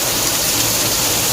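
Heavy rain pouring down steadily, a dense, loud, unbroken hiss of water with no pauses and no voices.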